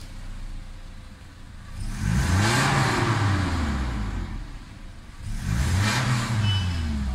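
A parked Toyota Fortuner's engine cranks and catches, then revs twice in strong surges, each climbing and falling back to idle, loud and close with no talking.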